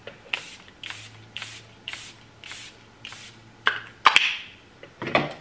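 Quick pump-spray spritzes of Charlotte Tilbury setting spray misted onto a face in a steady series of about seven bursts, then a few more irregular puffs, close and crisp with no talking.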